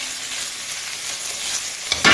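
Slices of capitaine fish pan-frying in a small splash of oil, a close, bright, continuous sizzle with a sharper burst of crackling at the very end.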